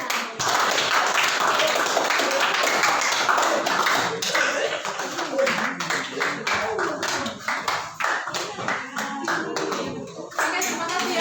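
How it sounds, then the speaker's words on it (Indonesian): Students clap for their classmates in a classroom, with sustained loud applause that breaks up into scattered individual claps over about eleven seconds, mixed with murmuring voices. "tepuk tangan"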